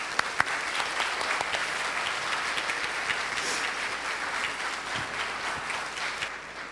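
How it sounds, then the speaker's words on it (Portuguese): A church congregation applauds steadily and warmly, many hands clapping together in a dense, sustained wash that holds for several seconds before easing slightly at the end. "Uma salva de palmas, né?"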